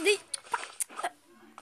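A dog yips and whimpers in short, high bursts close by, with a person talking over and between the sounds.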